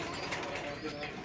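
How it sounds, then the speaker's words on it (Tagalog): Breeder and flyer pigeons coo softly in a loft, a brief, faint murmur of low throaty calls over a noisy background. "Ayan yung mga kalapati natin."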